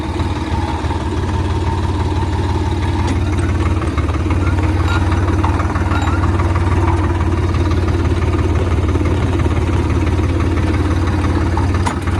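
A steady, loud tractor engine rumble runs throughout, the heavy motor idling or chugging evenly with a faint rattling clatter on top, in a potato field.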